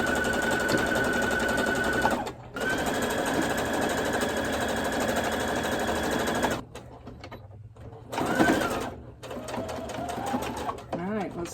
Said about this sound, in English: So now I'm going to go sew that.